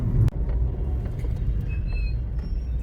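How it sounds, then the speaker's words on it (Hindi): Heavy road traffic heard from inside a car on a highway journey, a steady low rumble of engines and tires with a brief thump near the start and a faint high tone later. "बहुत ही गंदा ट्रैफिक का सीन चल रहा है।"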